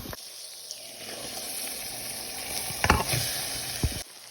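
Cloves and cinnamon fry in hot ghee for ghee rice, a steady close sizzle with occasional sharp stirring clatters near the end and no talk.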